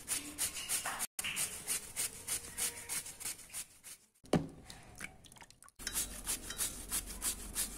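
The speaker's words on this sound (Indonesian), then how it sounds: "parutan yang saya gunakan adalah ini ya, dengan mata parutan yang tidak halus juga tidak terlalu kasar" Sweet potato rubbed against a medium grater in a home kitchen while preparing a fried snack, giving steady rhythmic rasping strokes that run close and moderately loud, broken by two short pauses.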